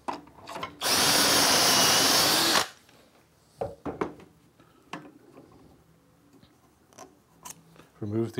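A short, loud burst of power drilling as a dowel hole is bored through a Dowelmax jig, bracketed by light clicks, taps and handling noises before and after.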